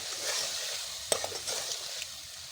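Tomatoes with ginger-garlic paste frying in a pan for aloo baingan, a soft steady sizzle with a spoon scraping through the mixture and one sharp clink from the pan partway through, close and faint, with no one talking.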